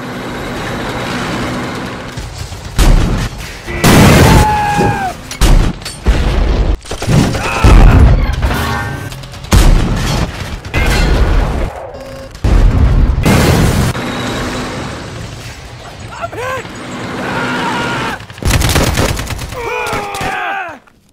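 Gunfire and explosions in a toy army men stop-motion battle, with repeated loud booms and bursts of shooting alongside rumbling tank-like noise and shouted voices between the blasts.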